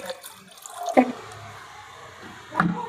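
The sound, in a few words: water being poured into pot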